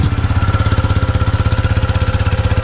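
An Aveta Marvel 150 motorcycle engine idles up close with a loud, even, rapid pulsing beat throughout, and no voices are heard.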